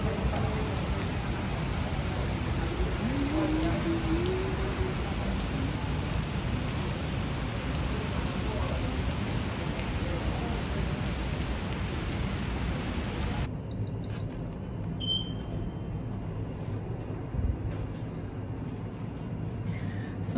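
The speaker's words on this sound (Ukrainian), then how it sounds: "Добре прогулялася, але тепер дощ." Steady rain pours outdoors in Kuala Lumpur, a dense continuous hiss of drops striking surfaces, close and loud, thinning slightly toward the end with no one speaking.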